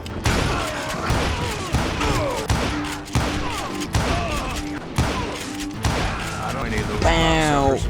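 Rapid gunfire crackles through a crossfire shootout in Call of Juarez: Gunslinger, with repeated loud shots and thuds over a continuous game soundtrack, and players talking throughout.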